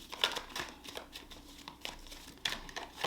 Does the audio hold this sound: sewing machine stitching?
no